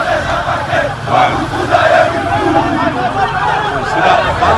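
Vasco da Gama supporters chant loudly in a dense crowd inside Nilton Santos stadium, a steady roar of many voices rising and falling in rhythmic waves throughout.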